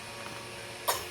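A nine-month-old baby makes a single short pretend cough near the end, a brief breathy burst after near silence.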